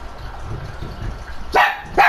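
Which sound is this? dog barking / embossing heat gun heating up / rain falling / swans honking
dog barking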